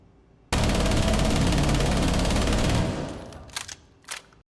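One long sustained burst of automatic gunfire in Rainbow Six Siege, loud and continuous for a couple of seconds before tapering off, followed by a few brief sharp clicks.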